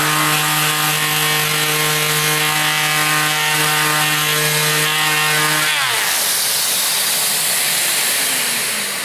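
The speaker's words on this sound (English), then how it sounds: "A quick go with the ROS, I've got 240 grit in there." Random orbital sander with 240 grit paper runs across wood, a loud steady whine with a rough sanding hiss, then the motor pitch drops away as it winds down, leaving a fading hiss.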